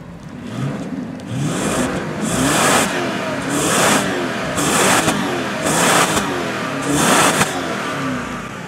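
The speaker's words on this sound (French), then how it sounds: "je vais vous faire écouter d'extérieur un petit peu la sonorité de ce V8" A BMW 745i E65 V8 on its stock exhaust revs repeatedly outside the car, about six evenly spaced throttle blips rising over a steady idle, heard fairly close and alone.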